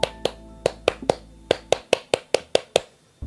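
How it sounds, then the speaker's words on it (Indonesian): Scout clap (tepuk pramuka) played as a rhythmic hand-clapping pattern: about a dozen sharp, close claps in a steady beat, with one quick double clap partway through and a softer final clap after a short pause, no voices. "itu tadi barusan adalah tepuk pramuka"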